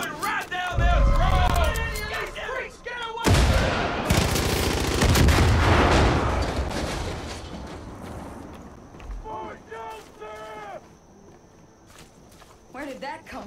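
Gunfire in the video game Far Cry 5, rapid close bursts and heavy blasts during a firefight, with shouted voices over the shooting and rumbling explosions fading into quieter footsteps and chatter.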